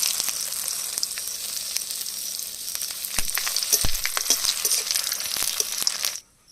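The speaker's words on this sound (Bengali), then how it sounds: "কড়াইতে দিয়ে দেবো সরিষার তেল তেলের মধ্যে দিয়ে দেবো গোটা গরম মশলা জিরা আর শুকনো লঙ্কা তেজপাতা দিয়ে দেবো" Whole garam masala, cumin, dried red chillies and bay leaves fry in mustard oil in a wok, giving a steady bright sizzle with a few sharp crackles and stirring knocks, close and loud, cutting off near the end.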